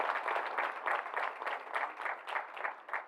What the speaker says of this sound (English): Now, pause for an applause.